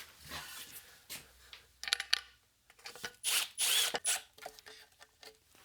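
A 5/16 driver sinking a 1/4 by 1 1/4 inch hex-head Tapcon concrete screw into a wall while hanging shelves, heard as several short bursts of whirring and ratcheting, close and fairly loud, separated by brief pauses.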